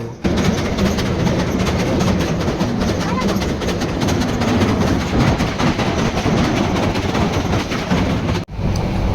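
A passenger train runs on rails during a trip to Cox's Bazar, making a loud, steady rumble with rattling that fills the whole stretch and dips briefly near the end.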